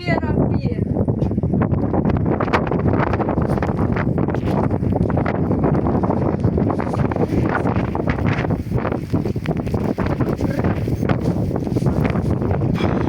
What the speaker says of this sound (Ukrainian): Файний вітер такий сі звіяв.